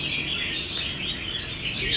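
A caged songbird, a crested bulbul, chirps in a continuous bright, high twittering song, fairly close and steady, with faint background murmur.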